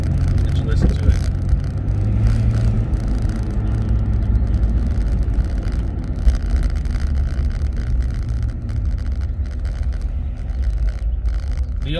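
A Jeep Grand Cherokee WJ with a Flowmaster 40 series exhaust idles and runs outdoors, a steady low rumble under wind buffeting on the microphone, with a brief rev near the start.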